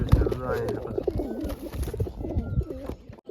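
Pigeons coo softly nearby in short rolling calls, with people talking at the same time.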